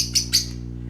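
Pet lovebirds and parakeets give two quick bright chirps close by, followed by a steady low hum.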